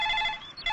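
Telephone ringtone for an incoming call, a bright electronic ring repeating in short bursts with a brief gap, fairly faint and heard alone.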